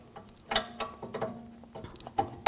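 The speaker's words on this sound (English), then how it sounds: "I'm going to use a 21mm wrench" A 21mm wrench loosens a rear shock mount bolt on a Volkswagen Jetta, giving a few sharp metallic ratcheting clicks spaced unevenly, close and moderately quiet.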